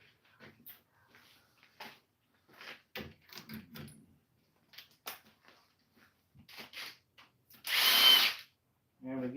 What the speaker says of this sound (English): Back to the big power tool.